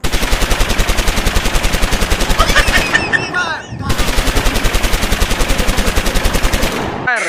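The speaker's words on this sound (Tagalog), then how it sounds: "At dito tinisting namin ang mga kagamitang Hapon, ang mga machine gun at ang kanilang mga kanyon" A Japanese machine gun fires at an arsenal in Bataan. Loud, close bursts of rapid shots come in a long stream, stop for a brief gap with voices, then resume in a second extended burst.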